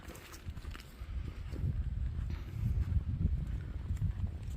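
A horse ridden at a walk in an arena gives soft, low, muffled hoof thuds in a steady rhythm on the footing, growing a bit louder toward the end, with faint background noise.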